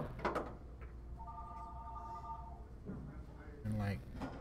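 A telephone ringing faintly in the background of an 8-ball pool match, with a tonal ring partway through and voices talking around it.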